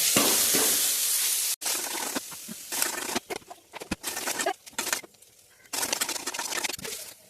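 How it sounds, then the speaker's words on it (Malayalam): Onions sauté with browned urad dal in a pan, loud crackling sizzle in bursts with brief pauses and scraping stirs, close and alone. "ഇനി നമുക്കതിലേക്ക് ഉള്ളി ഇതൊക്കെ ഇട്ടിട്ട് വാട്ടി കൊടുക്കാം കേട്ടോ"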